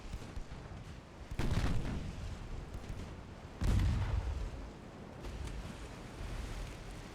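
Battleship guns boom in the naval game Ultimate Admiral Dreadnoughts, two heavy rumbling salvos a couple of seconds apart, each rolling off slowly over a steady windy, sea-like background.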